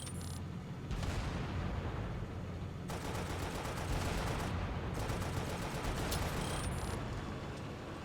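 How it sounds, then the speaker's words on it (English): A Scorpion tank in Halo: Spartan Assault fires its machine gun and cannon, dense rapid bursts of gunfire and booming blasts in loud continuous volleys with brief gaps. "You can fire the Scorpion cannon by pressing LT."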